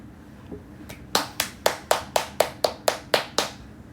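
One person claps hands during an Indonesian live stream, about ten sharp, evenly spaced claps close to the mic in a steady rhythm against a quiet room.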